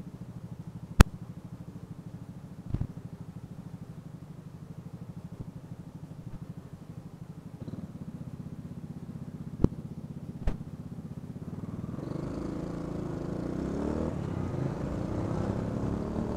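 A Honda Biz 125 motorcycle heard from the rider's position, a low steady engine hum under wind that builds in the final seconds as it accelerates, with a few sharp knocks.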